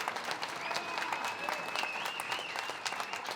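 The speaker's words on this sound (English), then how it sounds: "Ladies and gentlemen, a massive round of applause." A crowd at a junior fight night event applauds steadily after a bout, dense clapping from a large audience filling the hall, with a faint high tone running through it.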